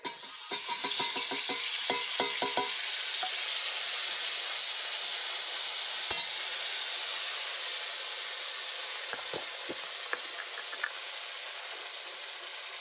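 Ground cumin and mustard paste hits hot oil in a pan for bhola fish, giving a continuous bright sizzle and hiss with brief clinks of stirring near the start and again later.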